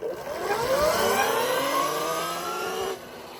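A Land Moto District Scrambler electric motorbike pulled to wide open throttle, its motor whine rising in pitch over about three seconds before cutting off, loud and close, with wind and road noise underneath.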